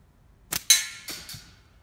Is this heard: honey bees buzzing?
no